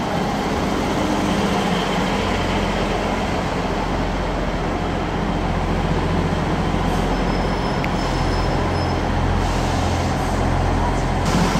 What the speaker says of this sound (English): departing now is going to be 158. .806 and 774